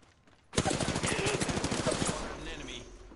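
Rapid automatic gunfire in the shooter game Apex Legends rattles out in a dense, loud burst that starts abruptly and then tapers into a softer tail.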